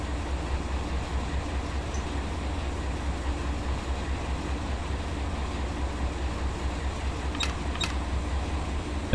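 Heavy steel freight train rolling through the Tehachapi Mountains, a steady, even rumble of wheels and cars with a constant low drone and a couple of faint high squeals near the end, no voices.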